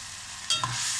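Tomatoes sauté in a pan for mint pulao, a soft quiet sizzle with a brief stir-and-scrape of a spoon partway through, close and faint.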